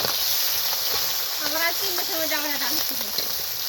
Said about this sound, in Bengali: এবার মাছগুলো দিয়ে দিলাম। এবার একটু ভাজা ভাজা হোক, লাল লাল হোক